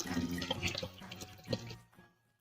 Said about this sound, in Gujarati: હવે આપણે આમાં પાણી એડ કરી દઈશું